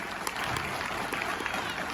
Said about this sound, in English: Can you clap for everybody here?